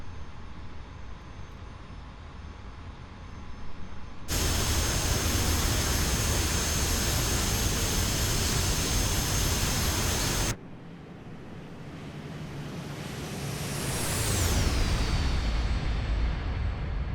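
Jet engine roar in the DCS World flight simulator, a steady hiss that jumps sharply louder for several seconds, drops back, then swells again with a rising and falling whine.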